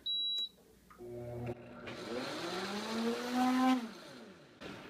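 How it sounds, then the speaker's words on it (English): An Optimum VAC2 vacuum blender pulsed in short bursts: a brief motor whir, then a longer whine that spins up and falls away, close and fairly quiet. "For this, you can just pulse it."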